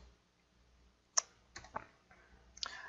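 A handful of faint, sparse key clicks from a computer keyboard while a search term is typed, quiet and close in an otherwise hushed room.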